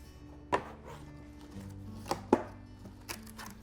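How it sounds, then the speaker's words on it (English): Cardboard display box for a black Bosch Universal Plus mixer being unsealed and opened, a few sharp tearing and tapping handling noises spaced over a few seconds, close and fairly quiet, with no talk. "In order to open up your display box, please break this seal."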